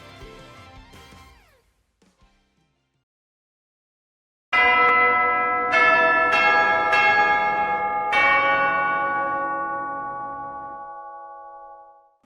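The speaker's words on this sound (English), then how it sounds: "I think I hear the bell ringing" A large resonant bell strikes several times in succession, each ring blooming into a long shimmering sustain that overlaps the next and slowly fades, loud and alone after a brief quieter tonal passage and a pause of silence.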